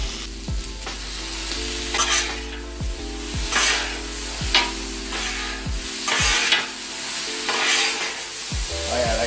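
Garlic and diced potatoes sizzle on a 36-inch Blackstone griddle, a loud, continuous frying hiss broken by repeated scraping strokes of a spatula across the flat steel surface, with no talking.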